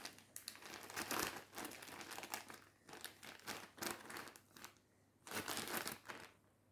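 Packaging wadding from a boxed aquarium filter set is handled up close, giving repeated bursts of loud crinkling and rustling with short pauses between them and no talk.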